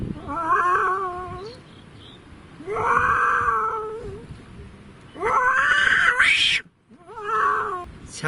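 A man vocally imitates a cat, producing several drawn-out meows and yowls with rising and falling pitch, close and fairly loud, separated by short pauses.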